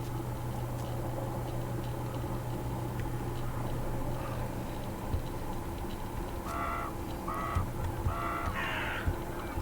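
Crows caw in the Secret World Legends video game: a few short harsh calls come in near the end, set against a steady hum of game ambience.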